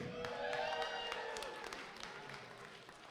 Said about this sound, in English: So I'd like a cheer for each candidate, please.